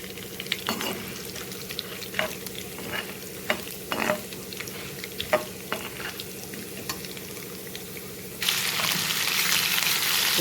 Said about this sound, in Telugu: శనగపప్పు తాలింపుకి వేసుకున్నాను.